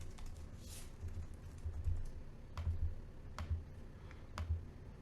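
Computer keyboard typing while writing Objective-C code in Xcode on a Mac, heard as a few short bursts of quiet keystrokes spread over a few seconds against a faint room hum.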